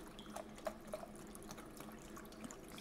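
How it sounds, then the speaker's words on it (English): Film developer from an American kit poured into a developing tank: a soft, steady liquid trickle with a few brief splashy drips, close by and fairly quiet. "Pour in our developer."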